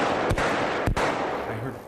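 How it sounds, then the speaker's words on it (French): Two sharp, loud gunshots crack about half a second apart, each a sudden booming burst with a short low rumble, set against continuous background noise. "j'ai entendu 3 coups de feu"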